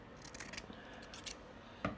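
Scissors snip through bias binding fabric at a sewing machine, a few soft, quiet crisp cuts spread across the moment, ending with two sharper snips close together.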